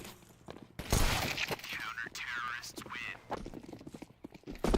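Rapid gunfire bursts and headshot kills ring out in a competitive Call of Duty Black Ops 3 esports match, with sharp repeated shots close by under an excited commentator talking over the action.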